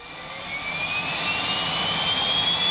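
A Grob business jet's engine roars during flight maneuvers such as tight turns and steep ascents, a steady loud whine and rush that swells gradually, with a rising high tone.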